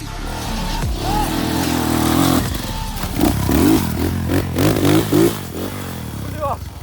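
Enduro motorcycle on a steep hill climb, its engine revving in repeated bursts with clattering and scraping, while several people shout over it.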